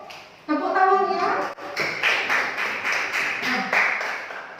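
Indonesian classroom children clap together for a classmate after a science presentation, a dense burst of hand claps mixed with kids' chatter and voices throughout.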